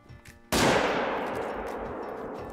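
A single loud rifle shot at a deer in a hunting video game, a sharp crack that rings out into a long fading echo after a brief quiet lead-in.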